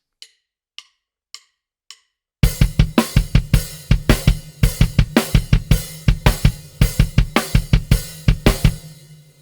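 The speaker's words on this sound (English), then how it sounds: "that kick drum is now playing a pattern of 3 swung 8ths followed by an" Kick drum in a song playing a repeating figure of three swung eighth notes and a rest across 4/4 bars, entering after a few sparse clicks, with punchy low hits in a steady loop.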